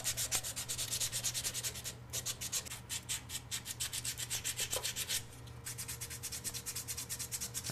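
Steady hand sanding and buffing of a rounded knife handle made from a saw blade, worked with sandpaper: close, even back-and-forth strokes repeat in a brisk rhythm, with two short pauses where the hand shifts.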